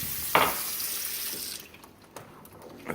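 Tap water running from a kitchen faucet into a measuring cup, a steady close stream with a splashy start that cuts off midway, followed by faint drips and small clinks.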